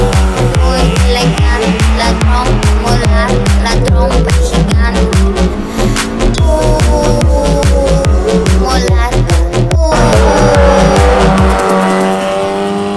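A Fiat Cinquecento race car on a timed run at the Kielce track on slick tyres, its engine roaring loudly and steadily with rapid gear changes and revs, heard up close from onboard.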